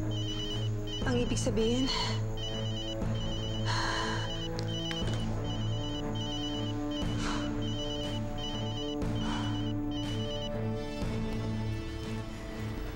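A telephone rings repeatedly in an electronic ringtone pattern, steady and clear, while people talk over it.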